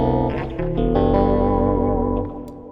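Electric guitar chord through an Axe FX 3 ring modulator effect, a metallic, inharmonic ringing tone that sustains and slowly fades, close and alone.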